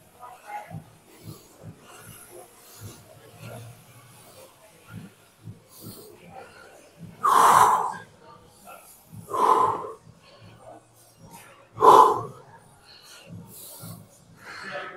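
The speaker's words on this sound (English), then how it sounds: "Just keep breathing" A man heavily exerting himself while pushing about 100 pounds of weight gives three loud, forceful, wheezing breaths spaced a couple of seconds apart, with quieter panting and rustling in between.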